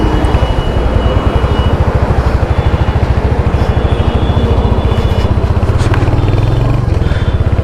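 A brand-new Royal Enfield Hunter 350 motorcycle thumps along on the road, its single-cylinder engine pulsing in a steady, loud rhythm close to the microphone for the whole stretch.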